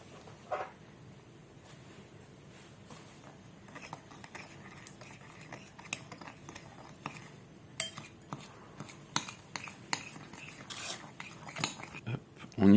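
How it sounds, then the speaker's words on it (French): A utensil stirring an effervescent bath bomb mixture of citric acid in a bowl, with quiet scraping and clinking taps that grow more frequent toward the end, no talking. "On continue à mélanger."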